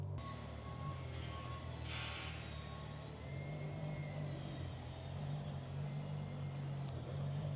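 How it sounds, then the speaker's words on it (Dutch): A Dakar rally car rolls indoors at the Amsterdam Motorshow, a low, steady engine rumble kept faint and distant, with a brief higher mechanical whine early on and no speech. "Er komt trouwens net een Dakar-auto aangereden."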